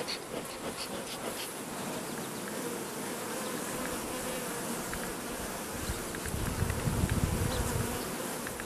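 Honey bees swarm around an open, active hive, their dense buzzing continuous and close, swelling slightly louder toward the end.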